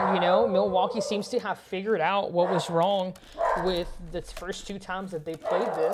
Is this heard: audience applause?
no